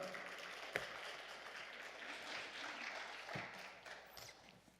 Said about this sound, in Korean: 하나님께 감사와 영광의 박수 올리시기 바랍니다.